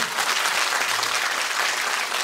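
Concert audience applauding after a bagpipe performance at a folk orchestra show, a continuous thick burst of clapping that stays loud and uniform from start to finish.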